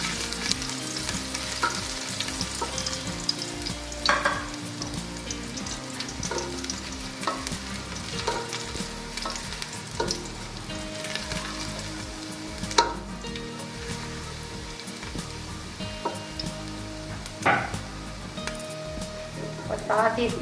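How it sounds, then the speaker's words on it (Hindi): Chopped garlic chunks fry and sizzle steadily in hot oil in a large cooking pot, a continuous close crackle with occasional stirring clinks and a voice talking faintly now and then. "इसमें पहले हम ये लहसुन के ये जो फ्लिक्स काटे हुए थे, चंक जो थे इसके, ये हम डालेंगे इसमें।"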